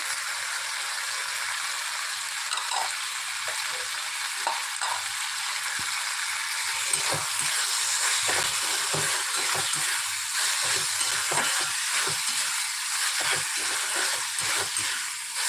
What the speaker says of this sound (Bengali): পেঁয়াজগুলো তো নরম হয়ে গেছে আদা পেঁয়াজ একটু ভালো করে কষানো হয়ে গেছে